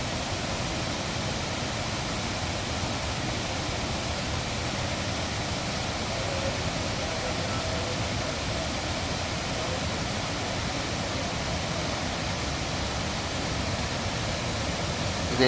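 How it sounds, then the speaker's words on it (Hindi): A waterfall in Kullu pours with a steady, unbroken roar that fills the whole stretch at an even loudness, and no voices can be heard over the rushing water. "यहाँ पर इतना बढ़िया पानी का झरना है ये"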